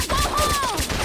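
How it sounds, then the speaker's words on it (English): Suppressed PPSH submachine gun firing in the Vietnam War shooter ShellShock Nam '67, a dense continuous burst of muffled shots filling the whole second at steady loudness, with a faint voice-like tone drifting over it. "This level also gave me my second favorite gun in the game. This suppressed PPSH"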